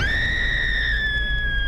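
A single long, high-pitched scream holds steady for nearly two seconds, loud and sustained with no pauses.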